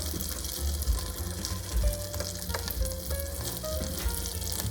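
Butter melting in a pan on the stove over medium heat, a steady soft sizzle and crackle at moderate level with small clinks and bumps of a utensil.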